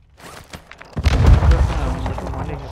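Sniper rifle fire in the shooter game Call of Duty Warzone 2.0, a few sharp cracks followed by a louder booming burst with lingering rumble, close and punchy.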